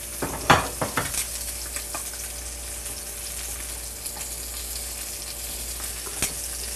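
Salmon sears in a hot pan, a steady close sizzle with a few sharp crackles and scraping stirs near the start, with no voices.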